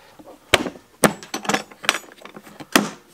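Long nose pliers tighten screws on a ham radio or CB radio carry box, producing a series of sharp, close metallic clicks and scraping ticks at irregular intervals, with no talk.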